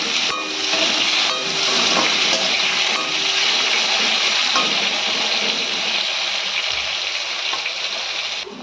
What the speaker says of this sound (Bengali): আলুগুলো এবার লাল লাল করে ভাজবো।